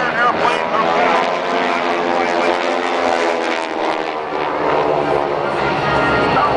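An airshow propeller plane with a 600-horsepower Pratt & Whitney radial engine roars past, a loud sustained drone that swells and recedes slightly, with people talking underneath.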